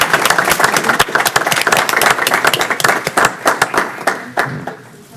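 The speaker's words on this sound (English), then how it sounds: "If you could give her a round of applause for that." Audience applause at a county school board meeting for the recipient of an English Language Development Recognition Award, dense overlapping hand claps that hold steady and loud, then thin to scattered claps and fade near the end.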